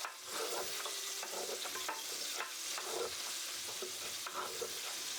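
Potatoes double-frying in hot oil sizzle in a loud, steady hiss, with occasional scraping and stirring knocks from a utensil in the pan.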